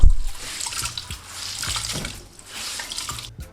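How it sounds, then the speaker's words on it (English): Water splashes and trickles in uneven surges as a kitchen cloth holding potatoes is wrung out, close and fairly loud. "Carefully grab the cloth and squeeze out all the water."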